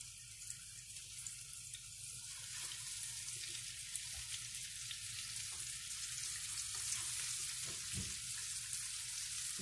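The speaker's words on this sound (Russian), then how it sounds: "Масло у меня готово. И обжариваю с двух сторон." Rabbit pieces fry in hot oil in a pan, a soft continuous sizzle with a few louder pops and clatters, close and steady, with no talking.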